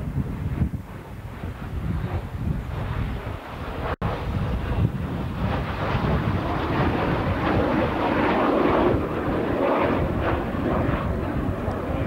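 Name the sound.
aerobatic formation of four airplanes at airshow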